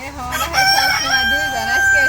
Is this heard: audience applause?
no